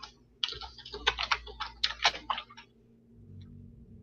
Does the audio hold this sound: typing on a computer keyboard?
yes